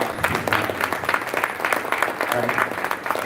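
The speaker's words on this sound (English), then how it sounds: "Let's give a big hand of applause for our" Steady applause from a crowd, dense clapping that swells and stays loud throughout.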